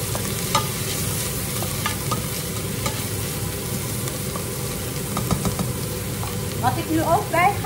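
Food fries in a pan with a continuous close sizzle, broken by spatula stirring scrapes and clicks. No one talks.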